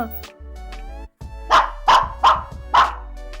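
A dog barks four times in quick succession, sharp and close, after a brief whine and some background noise.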